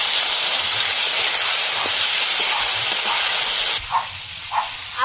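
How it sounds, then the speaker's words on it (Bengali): Ground spice paste with fried potatoes sizzles steadily in a hot pan, a loud continuous hiss that eases near the end, where a few soft stirring knocks come through. "এবার একটু কষিয়ে নেবো।"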